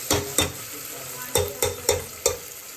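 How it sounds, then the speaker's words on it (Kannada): Tomatoes fry in oil in a pan, soft sizzling punctuated by six sharp scraping stirs of a utensil, close and clear with no talk. "ಬ್ರೌನಿಶ್ ಬರೋವರೆಗೂ, ಟೊಮೆಟೊ ಸ್ವಲ್ಪ ಸಾಫ್ಟ್ ಆಗೋವರೆಗೂ ಬೇಯಿಸ್ಕೋಬೇಕು. ಸೈಡಲ್ಲೆಲ್ಲ ಎಣ್ಣೆ ಬಿಟ್ಕೊಳ್ತೀವಿ."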